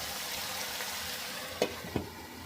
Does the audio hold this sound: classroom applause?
no